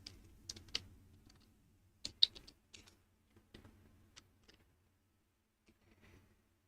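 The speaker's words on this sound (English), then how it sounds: "So I'm going to type it out ahead of time." Someone types on a computer keyboard in short, quiet bursts of clicky keystrokes, with pauses between the clusters that trail off toward the end, in an otherwise silent room.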